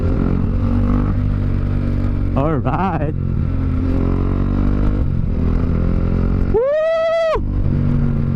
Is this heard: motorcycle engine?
yes